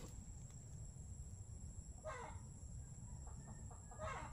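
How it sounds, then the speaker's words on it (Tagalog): A farm chicken somewhere near an okra patch gives short bursts of clucking, with two faint clusters of calls around the two-second and four-second marks over a steady outdoor background hum. "Ba't pumuputak ang manok doon?"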